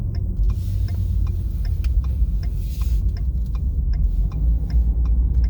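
Car driving at night, a steady low engine and road rumble from inside the cabin, with a regular ticking of the turn signal clicking over it.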